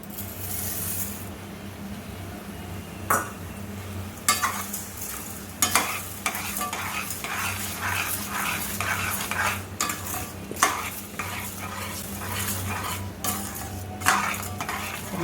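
A spoon stirs rock sugar into mango jackfruit payasam, scraping around a metal pot in repeated sharp clinks and scrapes, over a steady sizzling, bubbling background; no one speaks.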